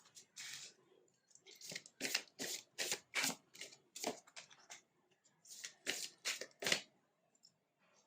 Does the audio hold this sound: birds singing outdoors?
no